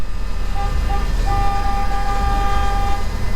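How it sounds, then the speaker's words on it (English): Car horns honk in short and longer blasts over a constant low traffic rumble, fairly loud and close, from cars stuck in a traffic backup in Lansing, Michigan. "honking their horns"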